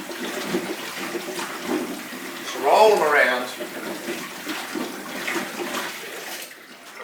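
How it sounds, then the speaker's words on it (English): Tap water runs steadily over freshly dug potatoes being rolled around and rinsed in a sink, swelling briefly louder midway while someone talks over it. "You roll them around and let the water run on them, and that gets rid of, straight away gets rid of most of the dirt."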